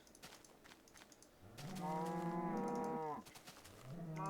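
A Minecraft cow lets out one drawn-out moo lasting over a second, close and clear, with another moo starting at the end and faint clicking in the quiet between them.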